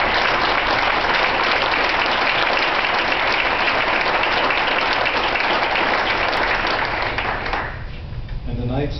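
An audience at a Knights of Columbus address by Supreme Knight Carl A. Anderson claps. The loud, dense applause fills the hall steadily and thins out near the end.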